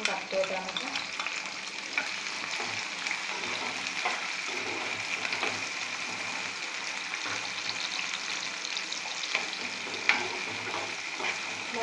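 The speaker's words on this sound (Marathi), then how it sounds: "तमालपत्र चांगली परतून घेतल्यानंतर त्यामध्ये आपण हे 2 मोठे चिरलेले कांदे आपण टाकतो।" Two large chopped onions sizzle in hot oil with bay leaves in a pan over high heat, a steady dense frying hiss throughout with occasional stirring scrapes and pops, close and continuous, no voice.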